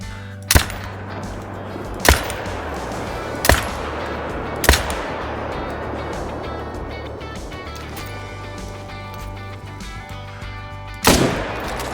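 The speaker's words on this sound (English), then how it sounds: "I'm gonna use the 308, but if I'm able to take 5 down instead of reloading, I'm gonna cycle over to my 300." Hunting rifle shots from .308 and .300 rifles in the hunting game Call of the Wild: five sharp, loud reports, four spaced about a second apart and a last one after a long pause, over a steady outdoor ambience.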